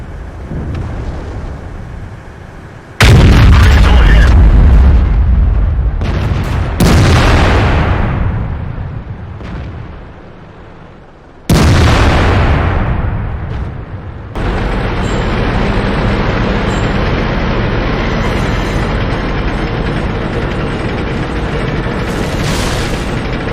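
Tank cannon fire and explosions from the older World of Tanks video game, several heavy booming blasts that each roll off into a long decaying rumble, then a steady loud roar of battle noise.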